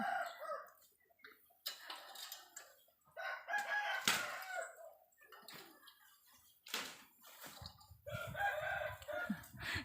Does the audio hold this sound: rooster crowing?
yes